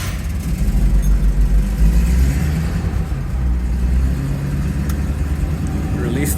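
A Rolls Royce Silver Shadow pulls out of a garage and climbs the exit ramp, its engine rumbling steadily and revving close by, with a brief voice heard near the start.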